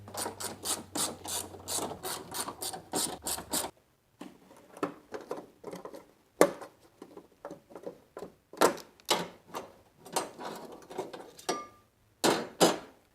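Wiring harness clips being popped off and a bracket removed with needle nose pliers during a Nissan VK56 engine teardown, a fast series of sharp mechanical clicks and ratcheting snaps in bursts, close and fairly loud, with short pauses between.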